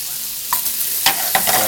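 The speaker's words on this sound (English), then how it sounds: "Then you add anywhere between 3 to 4 tablespoons of butter." Butter added to olive oil in a pan, giving a steady hiss of sizzling with a few brief scraping stir sounds, close and continuous, no talking.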